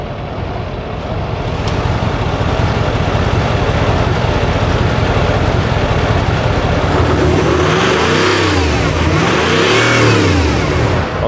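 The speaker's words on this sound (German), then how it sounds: "wenn du mal gerade einsteigst und einfach nur mal ganz kurz aufs Gas trittst, dass man mal hört, da ist unverkennbar ein Diesel drin" Diesel engine of a prototype 6x6 Sprinter motorhome rumbles loud and close, then revs up with rising and falling throttle blips in the last few seconds.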